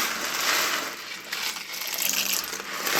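Dry cremettes pasta is poured into a pot of boiling water for goulash, giving a brittle, clinking rattle over a bubbling hiss in a kitchen.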